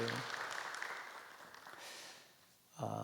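A church congregation claps during a Sunday worship service, faint and diffuse for a few seconds before a voice begins speaking.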